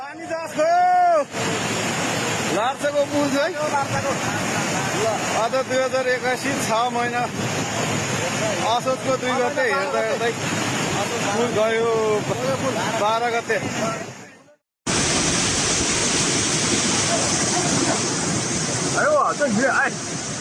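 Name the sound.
swollen river in Nepal destroying a bridge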